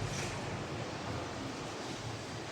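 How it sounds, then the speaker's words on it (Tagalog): Strong wind roaring steadily across the microphone, a constant rushing, buffeting noise with no voices. "Malakas ang hangin pa yun"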